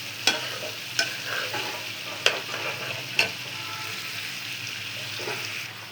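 Spiced food fries in a pan at home for a meal of bitter gourd, beef and lentils, with a steady sizzle under four sharp scraping clacks of a spoon being stirred through it.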